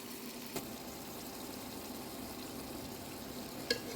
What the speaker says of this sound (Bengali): এইভাবেই কয়েকবার নেড়ে চেড়ে ভালো করে মিশিয়ে নেব যতক্ষণ না পর্যন্ত সম্পূর্ণ কষানো হচ্ছে